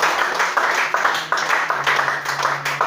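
Church congregation applauding and cheering together during a French-language worship service, a steady wash of clapping with raised voices over sustained organ or keyboard tones.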